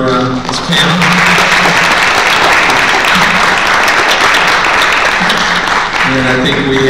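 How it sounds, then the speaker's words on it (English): A conference audience gives a self-publishing panel a loud round of applause that stays full and sustained, with a few voices talking briefly as it starts and again as it fades. "give a round of applause for this panel"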